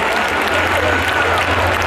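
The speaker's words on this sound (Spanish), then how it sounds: "Un aplauso también para los compis" A festival crowd at a night music event applauds in a steady wash of clapping and cheering, loud and continuous throughout with a low hum underneath.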